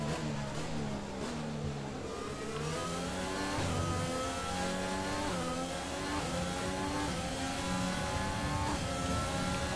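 F1 race car engines roar continuously in the F1 2020 racing game, loud high-pitched revving that climbs and drops through rapid gear shifts for the whole stretch, with no talking.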